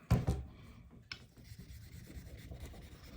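A Japanese natural whetstone is rubbed to build up a slurry, giving soft, quiet gritty scrapes: two firmer strokes at the start, another stroke a moment later, then faint continuous rubbing.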